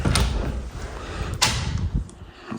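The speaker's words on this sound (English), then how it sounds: "What's behind this door? Let's see." A door in a $985,000 Hillcrest, Washington DC home swings open onto a storage space, with a low thud near the start and a brief sharp knock midway, followed by faint rustling handling sounds, close and fairly quiet.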